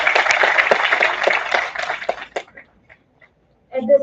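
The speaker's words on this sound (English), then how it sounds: "Let's have a huge round of applause for our new batch." Audience applause welcoming a new B.Tech batch at an orientation, a dense loud clatter of many hands for about two and a half seconds that thins and dies away, followed by a brief voice.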